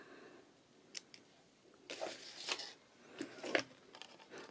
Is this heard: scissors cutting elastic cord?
yes